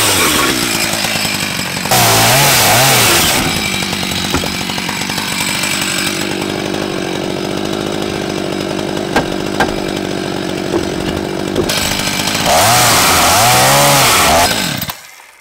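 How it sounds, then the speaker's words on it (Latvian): A chainsaw roars steadily through wood while building a gazebo, about fifteen seconds, loud and close, with two louder bursts of cutting near the start and end. "Un šeit sanāk zāģēt šādi."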